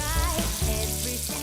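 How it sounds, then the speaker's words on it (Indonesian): Flour-coated dori fish frying in hot oil, a dense bubbling sizzle with stirring clatter, close and loud, heard alone over a short moment. "Kemudian kita goreng di dalam minyak panas."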